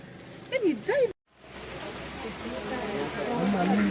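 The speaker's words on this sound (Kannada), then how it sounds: "ಮಳೆ ಬರ್ತಿದೆ" Steady rain patters in the background at Raja's Seat in Coorg, with a person speaking briefly at the start before the downpour continues alone, growing slightly louder.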